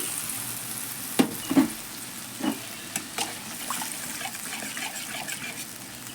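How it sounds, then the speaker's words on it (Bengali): Sour yogurt hits frying spices in a wok, and a steady wet sizzle follows, with several distinct clacks and taps of stirring standing out near the start and lighter scraping continuing after. It is close and medium-loud, with no speech. "দিয়ে দিলাম একটু টক দই"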